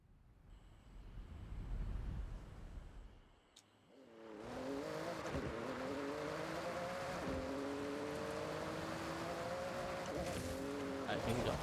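Porsche driven in the racing game Forza Horizon 6: after a brief quieter lead-in, the engine rises into a sustained loud whine with shifting pitch, steady and continuous to the end.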